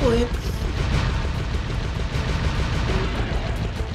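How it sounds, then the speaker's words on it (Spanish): Dense, continuous rapid gunfire from the PS3 game Sly Raccoon, loud and close, a steady rattling barrage with no pauses over game music and a voice talking. "Yo disparo todo lo que se me cruce."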